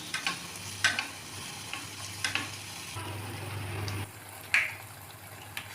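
Malpua batter is ladled into hot oil in a pan and fries with a soft, steady sizzle, broken by a few light clinks and splashes, close and moderately quiet.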